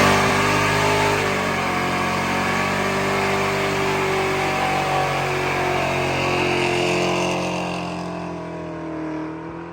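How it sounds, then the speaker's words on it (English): A Foxbody Ford Mustang with SN95 Cobra rear brakes roars through a burnout, engine held high and loud, then easing off as it fades toward the end. "We just did a couple burnouts."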